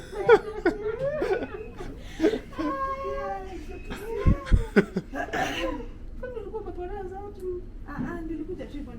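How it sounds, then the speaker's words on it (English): Several short coughs break up chuckling and talk, with a couple of sharp bursts near the middle. "I don't know why I'm coughing."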